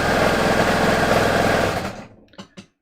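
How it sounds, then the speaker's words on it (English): A serger sewing machine with four threads stitching seams on a top, running in a steady loud whir that winds down, followed by a few short clicks and thumps. "So I wanted to take that stitching out and sew it again."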